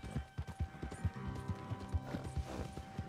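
Horse hooves in Red Dead Redemption 2 clip-clop in a steady, close rhythm, with a soft whinny-like tone and faint game ambience underneath.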